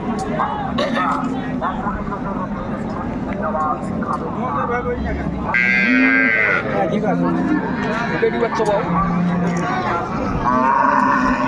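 Sahiwal cattle, a cow with her calf, moo repeatedly at close range while several people talk over and between the calls at Raniganj cattle market.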